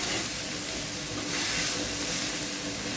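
Soybean chunks fry in hot oil with a steady, close hiss and sizzle that runs evenly throughout, with no talk.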